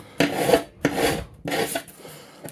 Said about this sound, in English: just get rid of that burr, that little burr that might be there